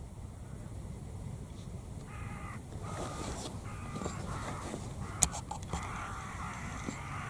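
A crow caws a few times, faint and distant, over a low outdoor background in farmland where lambs are being guarded against crows.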